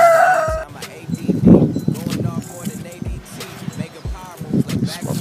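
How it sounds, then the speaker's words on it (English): Roosters crowing at a home in Africa, loud and close, with a long cock-a-doodle-doo and some clucking while someone talks over them. "Real roosters."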